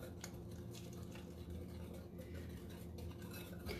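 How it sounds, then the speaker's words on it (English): A whisk stirring hot eggnog mixture into egg in a bowl, a soft steady scraping and sloshing patter, quiet and close, with no talking. "I'm gonna add a ladle full of the hot into my egg, and I'm gonna whisk it while I add it"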